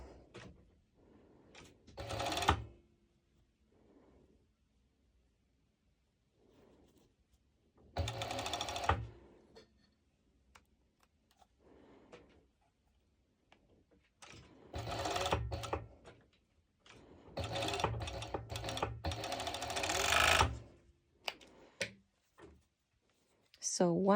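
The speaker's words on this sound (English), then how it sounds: "In case you don't have a serger, you can always use a zigzag stitch." A sewing machine runs a zigzag stitch in short bursts of rapid mechanical whirring, separated by quiet pauses, with the longest run near the end.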